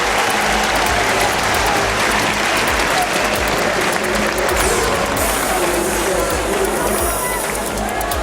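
A rugby crowd at a 1990 New Zealand versus Great Britain tour match applauds a successful kick, dense loud clapping and cheering that roars throughout, with a commentator talking over it.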